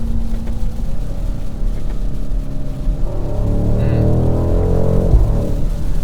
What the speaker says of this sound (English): I like the fake noise in this car much more than I do in the inline 6 car